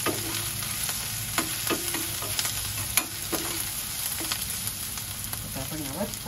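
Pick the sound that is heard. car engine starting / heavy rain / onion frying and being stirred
onion frying and being stirred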